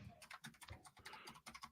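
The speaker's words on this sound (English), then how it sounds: "let me do some typing." Rapid keystrokes on a computer keyboard, typed in an office setting during a trucking business talk: an uneven patter of close, quiet clicks in short bursts with brief pauses, heard alone without speech.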